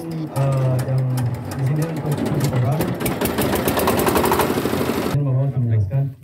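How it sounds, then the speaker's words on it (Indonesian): A porang tuber washing machine runs with a loud, steady mechanical rattle and hum. Someone talks over it, and the machine noise drops out near the end while his voice continues. "di sini adalah mesin untuk pencuci porang"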